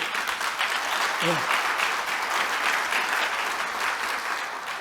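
An auditorium audience at a forum applauds, a thick continuous roar of many hands clapping that holds steady for several seconds with a brief vocal sound mixed in.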